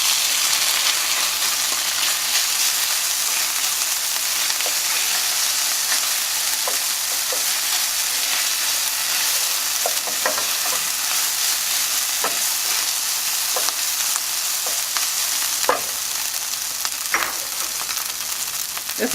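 Calrose rice hits golden frying garlic in a hot pan, setting off a loud, steady sizzle that runs throughout, broken by scattered clicks and scrapes of stirring, close up with no talking.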